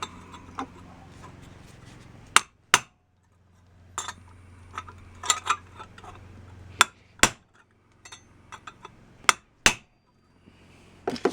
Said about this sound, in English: I'm going to put a chisel in there and try to flatten that.